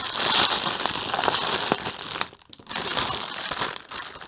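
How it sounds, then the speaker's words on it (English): A plastic packet of diamond painting drills crinkles and crackles close up, in loud continuous handling with a short pause partway through. "Some people like the sound of this crinkling."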